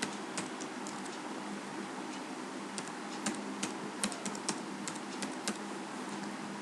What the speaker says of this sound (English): I am typing the username.